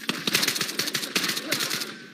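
Rapid bursts of gunfire from the VR shooter Ghosts of Tabor crack in quick, uneven succession, close and loud, with faint voices murmuring underneath.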